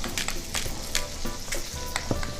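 Fries hiss and crackle in hot butter in a pan, a steady close sizzle with scattered sharp pops and some stirring scrapes, no voices.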